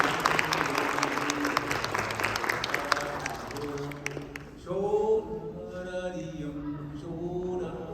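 An audience claps steadily for a Choctaw social dance performance, the dense applause fading after about four seconds as a voice and other sounds take over.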